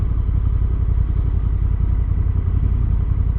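A Honda NT1100 DCT motorcycle slows to a stop, its engine running at a low idle rumble with some mechanical clatter, steady and close, with no voices.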